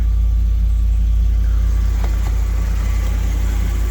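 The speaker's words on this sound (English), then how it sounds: "Then we're going to start it up." A restored car engine, Bill from Extinct Motorsports, fires up from cold and runs with a loud, steady low rumble close by, and a brief rise in revs partway through.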